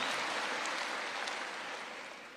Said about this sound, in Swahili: tuwapigieni makofi tafadhali wabunge wenzangu